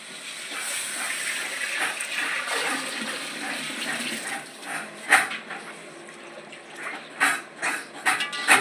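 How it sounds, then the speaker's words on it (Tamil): Water poured into a biryani pot for the rice makes a steady hissing splash that swells and fades, broken near the end by a few sharper clanks and splashes. "இப்போ நம்ம அரிசி போட்டதுக்கு உண்டான தண்ணி நம்ம ஊற்றுறோம்"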